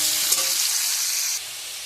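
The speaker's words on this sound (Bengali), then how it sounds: "এবার এইভাবে নেড়ে একটু লাল লাল করে ভেজে তুলব" New potatoes fry in oil with a little salt, giving a steady hiss of close-up sizzling with a brief stirring scrape near the start. The sizzle drops abruptly to a quieter hiss toward the end.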